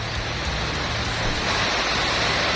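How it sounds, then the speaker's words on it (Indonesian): Steady broadband hiss of rain falling, constant and fairly loud throughout, with a low rumble underneath and no voices. "Nah ini kebetulan hujan juga nih."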